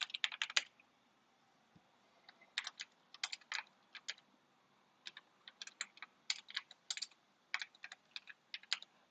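Someone types on a computer keyboard, entering command line arguments: quick bursts of crisp key clicks separated by short pauses, close and fairly quiet, with no talking.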